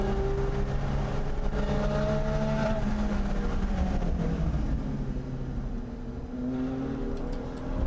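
A GT3 race car engine drones on track, a steady loud roar with shifting engine tones and the whine of other cars mixed in, continuous for several seconds without speech.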